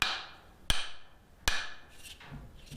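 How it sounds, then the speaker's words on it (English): A few light, sharp hammer taps seating a new wooden handle on a blacksmith's rounding hammer, about three distinct knocks spaced well apart with short ringing decay, close and clear in a quiet room. "a few light taps."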